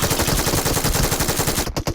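Rapid bursts of automatic gunfire from the mobile battle royale game BGMI, a dense, loud, steady rattle of shots that breaks into a few separate cracks near the end, with no talking.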